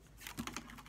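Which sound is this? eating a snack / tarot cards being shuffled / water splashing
tarot cards being shuffled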